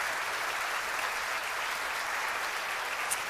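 Steady applause from a church congregation, a dense, even wash of clapping that holds at the same level throughout with no voices standing out.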